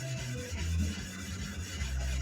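A deba knife bevel is rubbed on a Shapton 1000 grit whetstone, giving a steady, close, gritty scraping with no talk.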